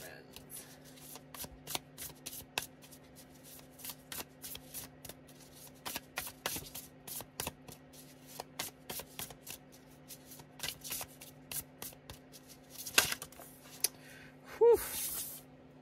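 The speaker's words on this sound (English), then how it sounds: "shuffle, shuffle, shuffle" Tarot cards being shuffled by hand, giving repeated crisp riffling and slapping bursts throughout, with a steady low hum underneath and a few sharper card snaps near the end.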